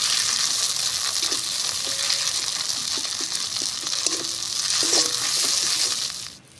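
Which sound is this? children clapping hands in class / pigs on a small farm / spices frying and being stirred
spices frying and being stirred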